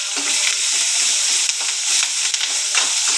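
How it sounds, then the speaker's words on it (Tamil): Onions sauté in hot oil with fennel and crackled curry leaves. A loud, close, continuous sizzle carries throughout, with faint stirring scrapes and no voices. "வெங்காயத்தை போட்டுக்குவோம் வெங்காயத்தை நல்லா வதக்கிக்குவோம்"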